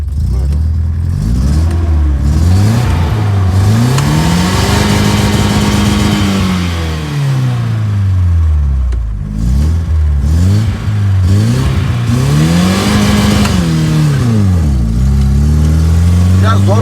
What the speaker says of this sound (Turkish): Biri atlıyor ama ondan önce bir gaz vereyim mi araba bak.